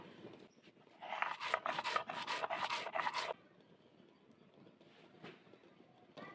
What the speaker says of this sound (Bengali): জিরা পাঁচফোড়ন একসঙ্গে বেটে নিব।